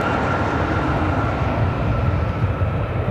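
A Delta airliner lands on runway 24 right at LAX, giving a steady, loud, close jet roar that holds without a break and has no talk over it.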